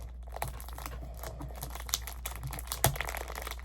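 Plastic wrap crinkling and rustling close up while a MoYu WRM 2021 speed cube is unboxed, an irregular run of crackles and small tears with one sharper snap near the end.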